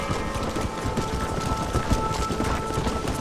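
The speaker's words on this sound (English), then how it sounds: "I haven't seen a storm like this for a while." A heavy thunderstorm in the game Red Dead Redemption 2 brings dense, steady rain with low rumbling thunder and faint hoof clip-clops beneath it, continuous and enveloping.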